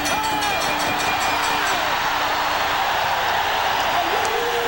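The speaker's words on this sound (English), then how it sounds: "the crowd begins to erupt" A boxing arena crowd in a Julio Cesar Chavez vs Roger Mayweather fight, a dense, continuous roar of cheering and whistles that holds loud and steady throughout.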